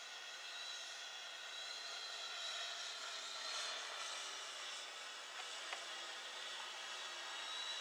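A Huajun W606-3 wifi FPV quadcopter hovers in altitude hold, its motors giving a steady, even high-pitched whir with no voices over it.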